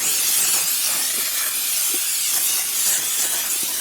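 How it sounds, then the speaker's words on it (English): A steady, continuous hiss of a cooking spray can spraying into a pan runs throughout at close range, loud and unbroken, with no voices. "I'm using a spray thing"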